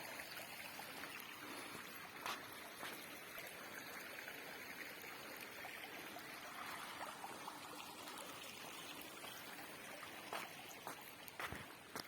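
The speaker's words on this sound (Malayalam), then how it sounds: "ഈ വെള്ളം ഒഴുകി വന്നിട്ട് ഇതിനകത്തേക്ക് ഒഴുകുന്നു" Water flowing over broad flat rocks near a power house, a steady faint rushing stream with continuous trickling and no talk.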